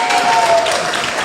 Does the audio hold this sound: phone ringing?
no